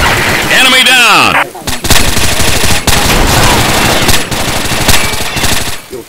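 Rapid bursts of gunfire from a tactical shooter video game, loud and close, firing in quick successive volleys across the clip with little pause between shots.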